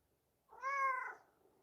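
A cat gives a single clear meow of about half a second, close and fairly quiet, with no other sound around it.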